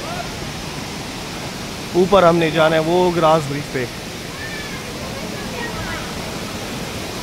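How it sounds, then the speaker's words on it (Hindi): Water pours down steadily at a scenic site in China near its glass bridges, a constant broadband rush that fills the whole clip while someone talks briefly over it. "ये पानी आ रहा है"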